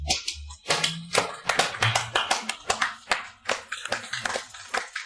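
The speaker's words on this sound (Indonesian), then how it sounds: "Mari kita berikan tepuk tangan yang meriah" Hands clapping at a formal welcome event, a lively irregular run of sharp individual claps, moderately close, with brief low murmurs beneath.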